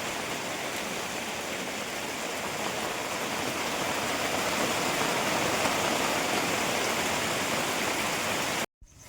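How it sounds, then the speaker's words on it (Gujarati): Heavy rain with big drops falls steadily on a home in Gujarat during the monsoon, a dense, even roar that stays loud and unbroken for several seconds, then cuts off abruptly. "દોસ્તો વરસાદ બી ચાલુ થઈ ગયો"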